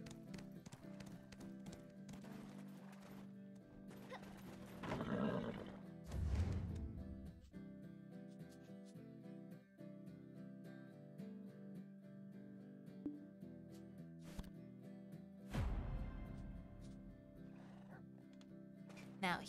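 In Black Desert Online, horse hooves clip-clop at a run with a couple of loud neighs and whinnies, set against a steady droning musical background.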